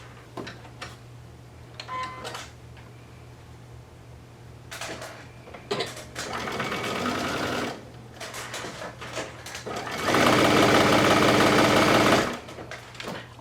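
A sewing machine runs a straight seam with a half-inch allowance across fabric for a gift card holder. Two bursts of rapid close whirring stitching follow scattered light ticks and handling clicks.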